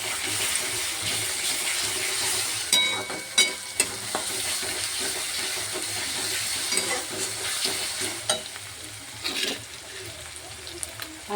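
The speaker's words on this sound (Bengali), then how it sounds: "এবারে আদা বাটা আর রসুন বাটাটা দিয়ে দেবো।" Ginger and garlic paste fry with softened onions in a pan, giving a steady loud sizzle broken by clattering stirs and a few sharp spoon knocks, with no voices.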